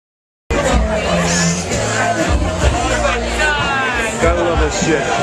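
Dense crowd chatter and babble at a live music venue, a loud, continuous hubbub of many voices with occasional whoops and shouts close by.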